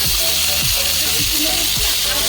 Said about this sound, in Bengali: এবার দিয়ে দিচ্ছি জিরে ফোড়ন, এছাড়া দিচ্ছি তেজপাতা